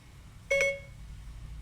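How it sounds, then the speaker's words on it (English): Siri voice assistant activation chime sounding once from a phone, a short bright two-tone electronic blip, close and clear over quiet room hiss. "That is Siri answering right now."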